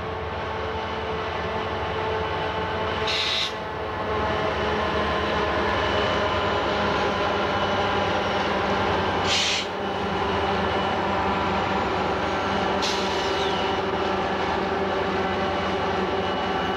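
Santa Fe diesel locomotives with an Alco RSD15 trailing roll past in a steady, heavy engine drone and rumble that holds loud throughout, with a few short higher bursts cutting in.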